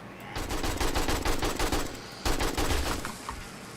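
An AK rifle fires in the 7 Days to Die video game. Two loud, close bursts of rapid automatic gunfire are separated by a brief pause.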